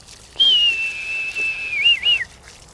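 A person whistles to call a bird outdoors: one loud, close, long, steady whistle that ends in a quick wavering warble.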